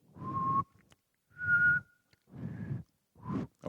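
A person makes four short, breathy whistling attempts with pauses between them. Each is a faint, airy tone over a lot of breath noise, close to the microphone.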